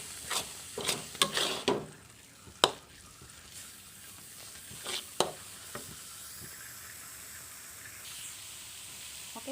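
Nastar filling is stirred in a pan: scattered scrapes and taps of the utensil come over a soft, low sizzle, with clusters of strokes early and then sparser knocks, fairly quiet and close.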